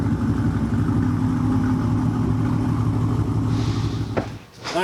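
A modified LS3 Corvette with headers and a K&N intake idles steadily with a deep, even burble, close and loud, before a brief rise and dip in engine note near the end.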